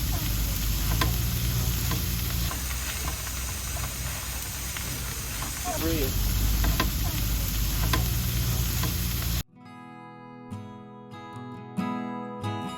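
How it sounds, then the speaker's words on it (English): Steady loud sizzling of food frying on a hot barbecue grill for most of the clip, with a brief voice over it, then it cuts to quieter, different sounds. "Hold on, I'll zoom in for the sizzle. We've got the sizzle."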